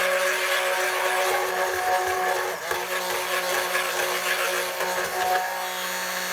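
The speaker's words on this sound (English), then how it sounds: "Let the blender do its job, Joe." A blender whirs steadily while mixing cold process soap batter, a loud continuous motor drone with a bright buzzing edge that holds almost unchanged for the whole stretch, with no voices.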